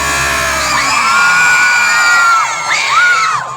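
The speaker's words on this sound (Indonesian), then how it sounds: "Sorak-sorak" A crowd at a Keboan ritual in Aliyan, Rogojampi, Banyuwangi raises sustained loud shouts and whoops of cheering that swell and dip, ending in a fresh rising wave of voices.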